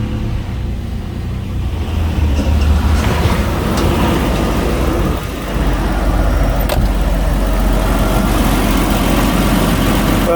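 A Jaguar XJS 3.6 engine idles steadily just after starting, a loud, close, continuous low rumble that carries on evenly with a brief dip midway.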